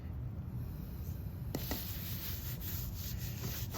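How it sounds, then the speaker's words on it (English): Hands work barbecue rub into a raw pork belly, making soft, steady rubbing and scraping close by, faint and continuous, with a couple of sharper taps partway through. "And make sure you rub it all in."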